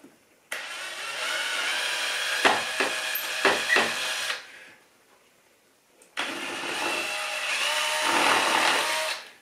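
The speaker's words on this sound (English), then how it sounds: "I'll put a really small drill bit in." A power drill with a really small bit bores into a wall near a window lintel, two close bursts of whirring with a few sharp catches in the first run and a short pause between.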